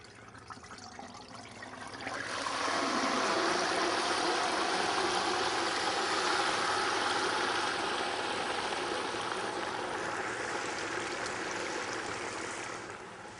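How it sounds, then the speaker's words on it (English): A whole deep-fried turkey is lowered into very hot frying oil, and a loud, sustained bubbling hiss swells up after a quieter start and then roars steadily, with no voices. "you have to be very careful when putting a whole turkey in the very, very hot oil"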